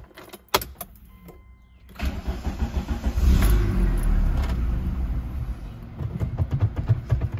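A car engine cranks and catches after a repair, then runs with an uneven idle and small revs up close. No voices are heard.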